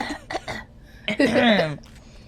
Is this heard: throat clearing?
yes